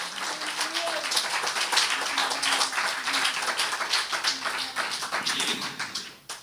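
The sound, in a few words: congregation applauding in church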